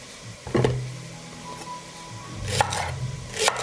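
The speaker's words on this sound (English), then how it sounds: "I will chop the green onions and celery." Green onions and celery chopped with a knife on a board, a few sharp cuts spaced apart over a low background hum, fairly quiet and close.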